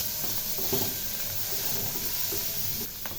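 Mushrooms frying in oil with garlic and a splash of soy sauce give a steady, soft sizzle and hiss, with faint stirring scrapes throughout.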